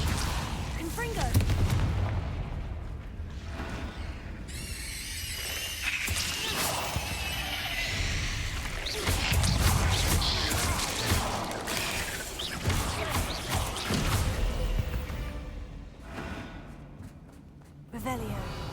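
Explosive Confringo fire spell blasts in the Hogwarts Legacy video game, booming repeatedly amid dense combat noise and game effects across the whole stretch, with a voice talking over the fight.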